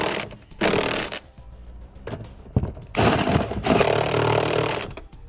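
Bursts of an impact or power tool tightening hex bolts on a Curt trailer hitch receiver on a 2013 Nissan Quest, several loud whirring runs separated by short pauses, up close with no talk.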